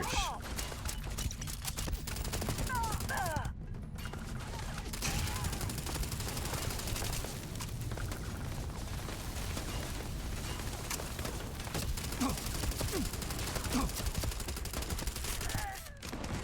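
Video-game gunfire in Starfield, rapid continuous bursts of shots and impacts filling the scene with dense, loud crackle, while someone talks over the action.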